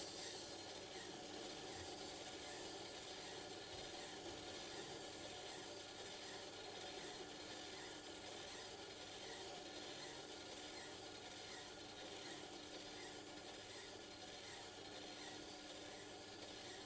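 A steel wood chisel sharpened on a Tormek T8 grinding wheel gives a steady, continuous rasping hiss that holds even for the whole stretch, close up with no voices.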